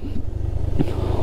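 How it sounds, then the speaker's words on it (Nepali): A Pulsar motorcycle rides past on a road toward a rural dirt track, its engine giving a steady low drone with a brief louder swell midway, close and continuous throughout. "पल्सर बाइक पो कुदायो त।"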